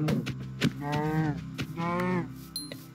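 A Minecraft cow lets out two drawn-out moos close by, each a rising, buzzy low call, with a few soft thumps around them.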